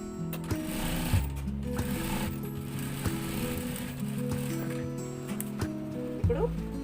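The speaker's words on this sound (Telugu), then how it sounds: "ఈ లైన్ ఒక స్టిచ్ వేసుకుంటే సరిపోతుంది." Sewing machine stitching a line along an overlocked blouse seam, a steady close mechanical whir with rhythmic clicking that runs throughout, with a brief heavier thump near the end.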